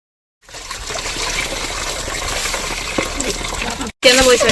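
Water poured over cut fish pieces as they are rinsed on a stone slab, a steady close splashing trickle that runs for several seconds and ends in a brief louder burst.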